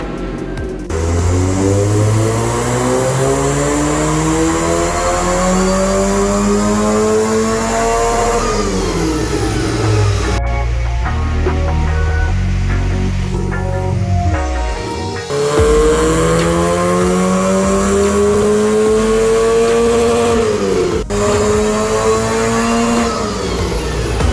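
A supercharged Mazda MX-5 Miata on a dyno roars through repeated full-throttle pulls, each rising steadily in pitch before dropping off, loud and close.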